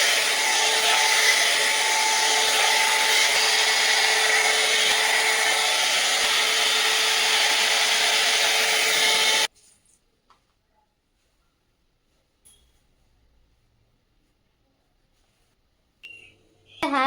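An Urbon Yog hot air brush smooths hair, its steady, loud motor-and-fan roar running alone for about nine seconds before cutting off to near silence, with a few faint handling sounds afterward.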